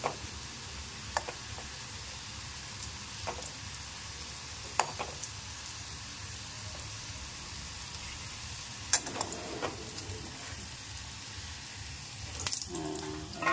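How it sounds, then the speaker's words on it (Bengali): Bitter gourd slices frying in oil in a pan make a low, steady sizzle, punctuated by occasional sharp clicks and utensil taps. The sound is quiet and close, with no speech. "করলা ভাজা হয়ে গেছে"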